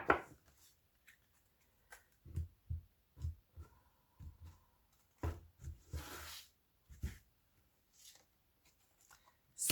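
Angel oracle cards being shuffled by hand for a card draw, a run of soft irregular papery slaps and riffles close up, with brief pauses between bursts and no talking.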